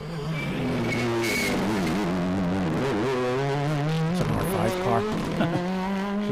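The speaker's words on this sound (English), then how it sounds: "It's an R5 car." An R5 rally car on a stage of the Ulster Rally accelerates hard, the engine note climbing and falling through several gear changes, with a loud, close, revving pass.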